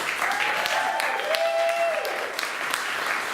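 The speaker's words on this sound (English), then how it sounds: "give them a big round of applause." An audience at a comedy show applauding the comedians and improv performers, a dense burst of clapping with a few whoops, continuing steadily at close range throughout.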